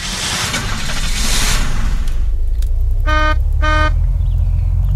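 A car horn in the video game Unturned gives two short, loud toots about half a second apart, following a stretch of engine and road rumble that continues under them.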